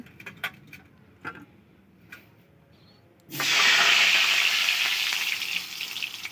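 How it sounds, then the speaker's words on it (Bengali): Washed potatoes dropped into hot oil for a Bengali fish dish, bursting into a loud, steady sizzle halfway through after a few faint clicks and quiet kitchen background, the frying hiss staying strong to the end. "তেল গরম হয়ে গেলে আলুগুলোকে ছেড়ে দেবো"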